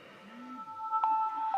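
Startup tone of a Samsung GT-C3530 mobile phone, an Orange-branded 2011 handset, powering on: a short electronic melody of steady sustained beeps, fairly quiet and alone.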